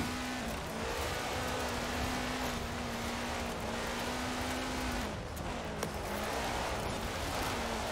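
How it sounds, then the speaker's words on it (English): An off-road dirt race car in a video game drones with a steady engine note under a dense wash of noise, loud and continuous with a brief dip in pitch partway through. "I love off-road racing. I should say dirt racing. Off-road racing in this game."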